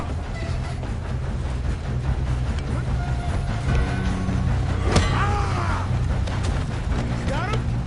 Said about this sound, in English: If we don't stop this train soon, the other boys will never catch us.